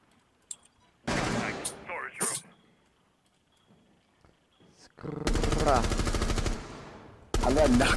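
Gunfire in a first-person shooter video game, a headshot kill: sharp, loud bursts of shots in two long volleys late on, after a brief crack and a spoken exchange earlier.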